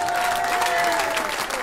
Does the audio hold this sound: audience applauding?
yes